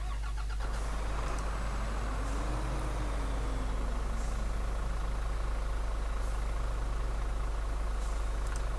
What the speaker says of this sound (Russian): Давайте заведем, и свой звук на машинке присутствует.